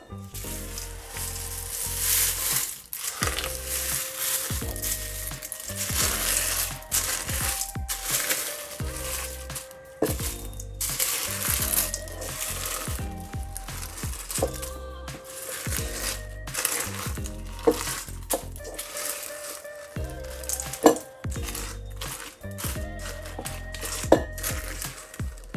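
Regular unsweetened cornflakes are gently stirred into Afghan biscuit batter, giving a dense, close crunching and crinkling that runs steadily throughout with no one talking.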